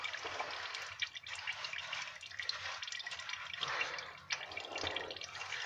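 Motor oil drips and trickles from the drained 5.9 engine of a 2000 Dodge Durango, a faint, close, continuous patter of liquid with small splashes, no talk.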